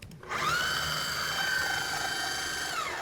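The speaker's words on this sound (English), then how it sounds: "All right, I'm gonna pulse this down" A food processor pulses mushrooms for vegan bolognese, its motor snapping on and holding a high, steady whine for a few seconds, close and fairly loud.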